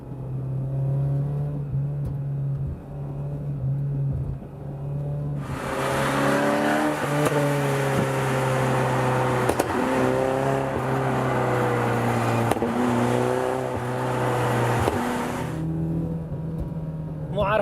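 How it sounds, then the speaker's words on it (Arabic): A modified Mazda 6 with an aftermarket exhaust and tuning software runs its engine, a steady droning rumble rising into a louder revving passage midway, with occasional sharp pops; someone talks over it at first. "مع نظام الاكزوست المعدل في زي سوفت وير برمجه على السياره بتساوي زي تفقيع تنقيع"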